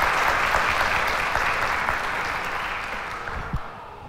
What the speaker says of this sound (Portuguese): Vamos dar uma salva de palmas a todas as mães espirituais.